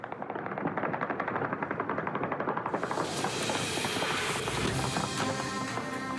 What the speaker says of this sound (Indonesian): Tembakan terdengar di seluruh Beirut